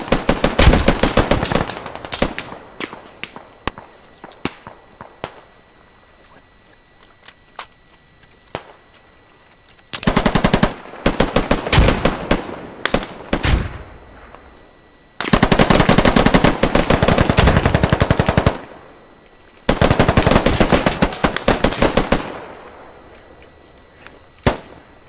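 Machine gun fire in a video game comes in several loud, dense automatic bursts separated by quieter gaps with scattered single shots, some long and sustained, others clipped and sharp, no talk over them.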